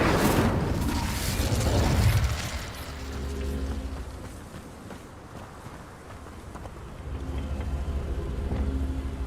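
Incendio fire spell cast in Hogwarts Legacy, a loud fiery burst and boom at the start that fades into rumbling, crackling ambience with softer surges later on.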